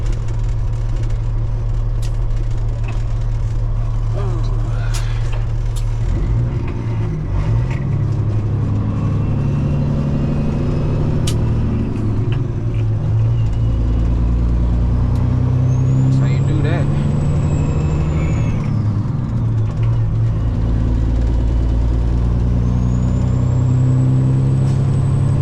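A truck drives along the road near Lake Village, its heavy engine droning steadily throughout, with an air-brake hiss and rising revs partway through; a voice talks intermittently over the rumble.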